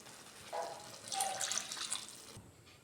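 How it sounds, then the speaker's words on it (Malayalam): Water poured into a cauliflower kurma in a pan, a faint soft splashing stream that swells and then fades, heard alone in quiet surroundings. "ഇനി നമുക്കിതിലേക്ക് കുറച്ച് വെള്ളം ഒഴിച്ച് കൊടുക്കാം."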